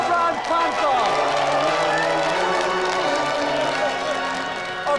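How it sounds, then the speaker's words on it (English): A television studio audience applauds and cheers for guests on a game show, a dense continuous wash of clapping and crowd noise under music and talk. "And let's another round of applause for our 2 special guests today, Cobra and Panther."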